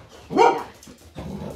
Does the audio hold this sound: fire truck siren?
no